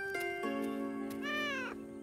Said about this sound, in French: Oh, petit minou!